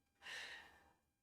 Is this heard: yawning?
yes